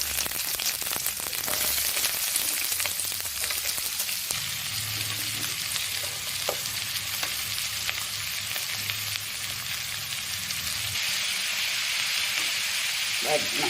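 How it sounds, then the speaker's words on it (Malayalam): Grated coconut roasting in a pan for a Kerala squid roast, giving a steady close sizzle with scraping stirs throughout and no talking. "തേങ്ങ നന്നായിട്ട് മൂത്തിട്ടുണ്ട്"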